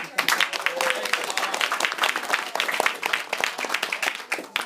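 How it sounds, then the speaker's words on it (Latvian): A celebration audience at a tenth-anniversary society gathering claps to welcome the board chairman, producing a loud, busy burst of many hands at fairly close range, with faint crowd voices mixed underneath. "Tad ar šādiem aplausiem sagaidām Pēteru Līci priekšsēdētāju valdes"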